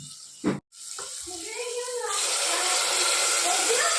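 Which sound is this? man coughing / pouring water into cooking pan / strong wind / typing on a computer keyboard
pouring water into cooking pan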